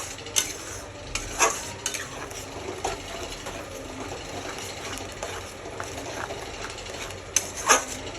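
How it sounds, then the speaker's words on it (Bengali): Kofta spice masala fries in oil in a pan while being stirred, giving a soft continuous sizzle with repeated sharp scrapes and taps of a spoon against the pan. "তো এখন মশলাটাকে এইভাবে আমি ভেজে নেবো আস্তে আস্তে।"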